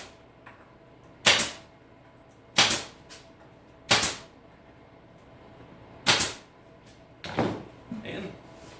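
Brad nailer firing 1.25-inch brads into drawer bottoms during an armoire restoration, heard as five sharp, loud pneumatic shots spaced about a second or more apart, with a fainter scraping handling noise at the end.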